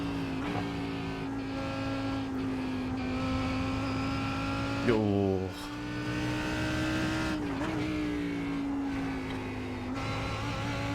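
Lamborghini GT race car engine in a racing video game at Brands Hatch, run with a low-downforce setup, droning steadily with pitch shifts through gear changes and a brief exclamation from a voice partway through.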